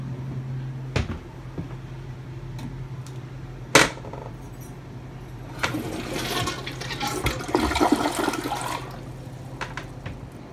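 A brand-new 2020 American Standard Cadet 3 toilet in a master bathroom flushes: a couple of sharp clunks from the handle and seat come first, then a loud, rushing swirl of water that surges and fades over several seconds.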